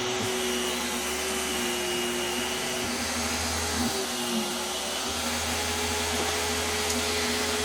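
A homemade table saw cuts through wood with a steady, high-pitched motor whine and blade hum that shifts slightly in tone as the material feeds through, close and constant.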